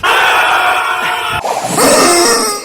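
Rubber screaming chicken toys squeezed by hand give loud, continuous shrill squealing for over a second, a brief break, then another harsh, wavering scream close up.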